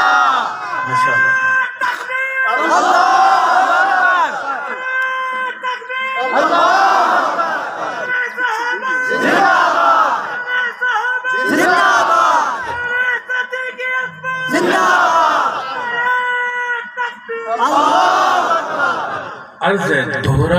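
A large crowd at a naat recitation chants loudly in repeated bursts, rising and falling in a steady rhythm with short pauses between each shout.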